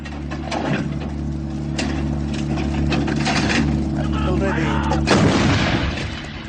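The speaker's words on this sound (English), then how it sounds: "To see the effect of burst fire in area diamond." Indian Army Bofors artillery gun firing a burst, loud sustained rumbling booms with continuous low-frequency roar and sharp blasts throughout, heaviest blast near the end, with a voice faintly present underneath.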